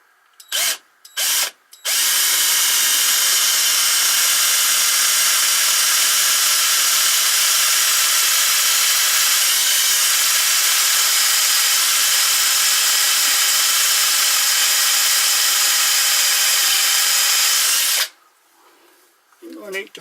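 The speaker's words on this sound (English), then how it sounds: "drill's gone in around 3/8 of an inch, which should be safe and well clear of the T-slot" A power drill bores into metal on a Myford Super 7 lathe, running as one loud, steady high-pitched whine for about sixteen seconds after a few short bursts, then stopping.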